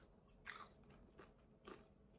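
Crunchy protein popcorn being bitten and chewed up close, with three soft crisp crunches spaced about half a second apart, faint and alone.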